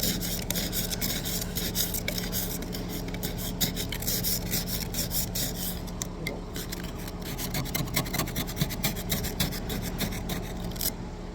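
Hard, rapid rasping scrape against a frozen, stuck car window, a dense continuous rubbing that runs without pause, loud and close, with short sharp strokes toward the end.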